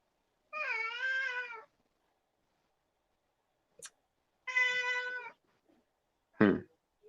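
A house cat meows twice, loud and close, each call long and drawn out, with a short click between them and a sharp, brief noise near the end.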